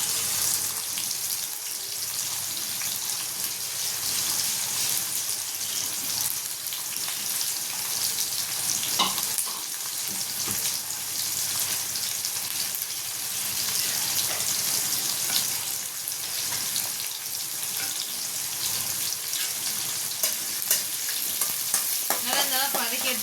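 Onions sauté with asafoetida in a pan, giving a continuous close sizzle and crackle with occasional stirring scrapes throughout.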